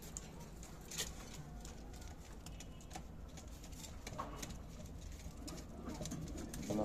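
Faint cooing from a pair of Coca pigeons drifts through a quiet room, low soft calls under scattered light taps and rustles, distant and gentle throughout.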